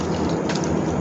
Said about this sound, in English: big raindrops